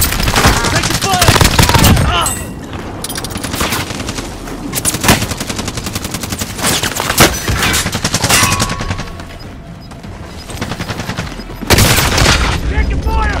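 Dense gunfire in a battle royale video game: rapid machine-gun bursts and scattered single shots, loud and continuous with brief lulls, mixed with game voice lines.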